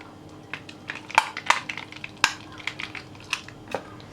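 A spoon scraping and tapping against a bowl while mayonnaise goes into a chicken noodle salad, a run of sharp close clinks and wet scrapes in an irregular rhythm, no voices.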